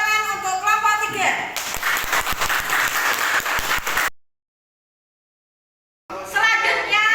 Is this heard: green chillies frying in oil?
no